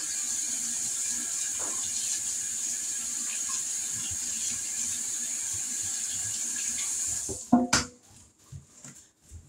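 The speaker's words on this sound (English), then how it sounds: "Rinse off this spatula." A kitchen tap runs steadily while a spatula is rinsed under it, a constant close splash and hiss that cuts off abruptly near the end, followed by a few clatters and knocks.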